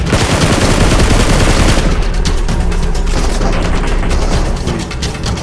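Loud PUBG Mobile gunfire: a dense automatic burst at first, then a steady run of rapid, evenly spaced shots that keeps going to the end.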